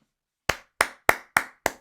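Five sharp, evenly spaced claps or knocks ring out after a brief silence in a Harry Potter film scene, each a crisp percussive hit with a quick decay.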